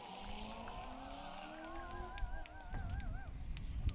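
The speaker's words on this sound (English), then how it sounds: "You hear the cheers there as car 281 comes up. Brian Haskett, a 2007 Cadillac CTSV." A 2007 Cadillac CTS-V race car on an open-road racecourse during an open road challenge, its engine note rising and wavering as it approaches over a steady roar of road and wind noise, fairly loud and unaccompanied by talk.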